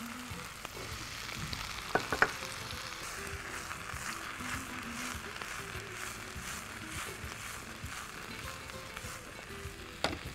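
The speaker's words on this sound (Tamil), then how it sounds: "3 பச்சை மிளகாய் நல்லா வதக்கலாம். இப்போது காலிஃப்ளவர் சேர்த்துக்கலாம்." Cauliflower and green chillies sauté in a hot pan with a steady low sizzle and occasional scrape of stirring, a couple of sharper clinks near the start and end.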